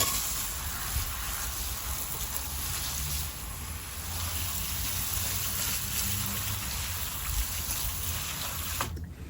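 Freshly harvested backyard-garden carrots being rinsed under running water, a steady broadband splashing and trickling that runs unbroken for about nine seconds, then cuts off abruptly.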